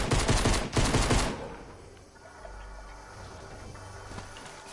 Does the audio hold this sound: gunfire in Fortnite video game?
yes